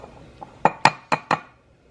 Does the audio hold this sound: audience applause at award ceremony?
no